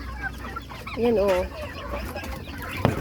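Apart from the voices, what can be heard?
chickens clucking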